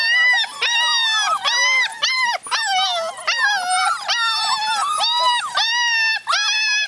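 A litter of puppies barks and yelps nonstop, loud, high-pitched overlapping cries repeating in rapid bursts close by, with no talking.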